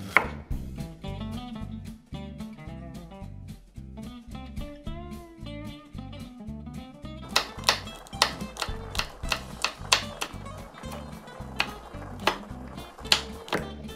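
Half an onion is sliced into thin strips with a knife on a board, producing a quick, steady run of close, crisp chopping taps that speed up in the second half, with light music underneath.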